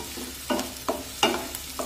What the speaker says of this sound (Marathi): कांदा सतत परतत राहायचं, म्हणजे मग तो सगळीकडून एकसारखा भाजला जातो